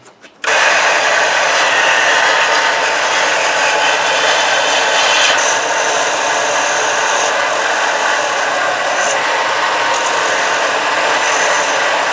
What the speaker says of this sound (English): the belt sander often doesn't get as precise as I want